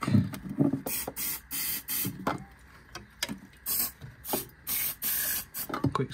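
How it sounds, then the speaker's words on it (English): Several quick hissing bursts of a cleaning spray bottle, used on a Lotus Elan brake master cylinder, come in an irregular series, each a short sharp spritz, close up and fairly quiet. "Quick spray."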